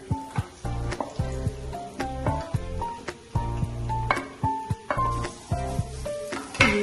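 Sliced big onions sizzling in a pan for chicken kalmas, a steady close fry with repeated scraping stirs and clinks of a utensil against the pan.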